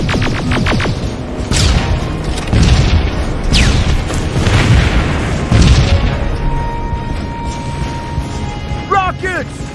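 Rocket blasts in the Terminator Resistance video game, repeated deep booms and rumbling bursts rolling over each other with whooshing debris, loud and close, with game voices shouting over them.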